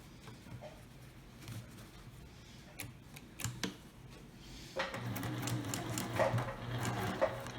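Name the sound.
sewing machine stitching a ring bag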